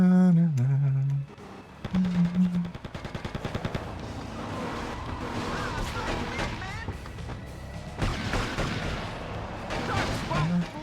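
Rapid volleys of police gunfire in the PS2 game GTA Vice City Stories crackle in quick bursts and single shots, mixed with vehicle noise and a voice talking over parts.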